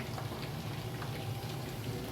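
Steady rain falls outdoors as a continuous, fairly loud hiss with a soft patter of drops throughout, unbroken and with no voices.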